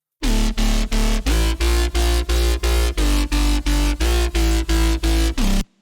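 Layered jump-up drum and bass bass with a sample-pack sub underneath, played as a steady run of about fourteen loud, evenly spaced stabs that stop and start in a tight pumping rhythm, alone with no voices.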